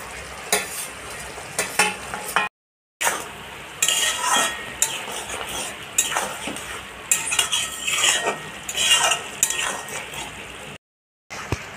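Boiled okra being stirred with mustard paste in a pan: repeated scraping and clinking of a metal spoon against the pan under a soft sizzle, in bursts with two brief silent breaks.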